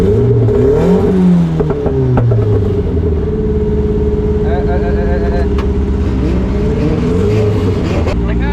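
A loud, rough car engine running on only three cylinders idles and revs unevenly close by, its uneven throb suggesting misfiring, while a person talks over it.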